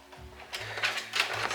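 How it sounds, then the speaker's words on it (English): A sewing machine running a few short bursts of stitching lengthways along fabric, close and mechanical with a whirring rattle. "So you're doing the length, the sewing, the stitching lengthways."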